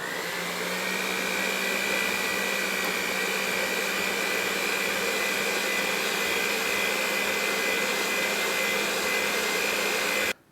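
An electric mixer runs continuously, beating low carb cookie batter with heavy whipping cream, a loud, steady motor whir close by that cuts off abruptly at the end.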